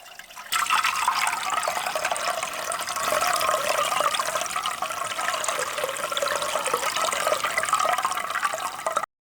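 Water runs steadily through a homemade carved stone sink, a continuous, fairly loud rushing and trickling that starts abruptly and stays constant until it cuts off at the end, with no talking.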